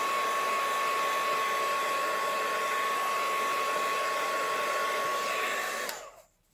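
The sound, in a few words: heat tool on first setting loosening glue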